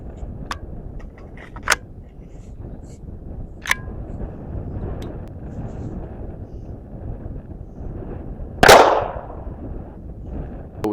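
A .22 LR pistol fires a single shot at a motorcycle helmet outdoors, one sharp loud crack with a brief ringing tail rising over steady wind noise, preceded by a few faint clicks.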